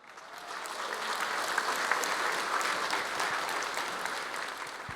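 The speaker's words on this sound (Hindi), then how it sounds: "जितना आप लोगों ने ताली बजाया ना" Steady applause from an audience at a business talk, a dense wash of clapping hands that swells in and holds for several seconds without voices.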